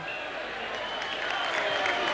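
Rugby league crowd at a Bramley versus Workington Town match, a steady broad roar of a large crowd murmuring and reacting, continuous and fairly loud throughout.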